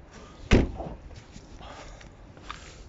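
A door on a 2009 Opel Corsa petrol car swings shut with one solid thump near the start, followed by quiet background and faint shuffling.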